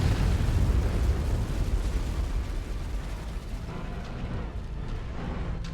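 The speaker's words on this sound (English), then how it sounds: "they are not fucking around with this artillery" Heavy artillery shelling in modded Mechwarrior 5, a loud rumbling barrage of deep blasts that gradually fades toward a quieter tail.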